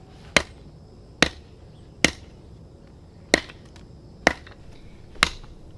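Six sharp, loud chops ring out at roughly even intervals as a medieval tomahawk bites into hard, long-seasoned firewood outdoors, each impact isolated against quiet background.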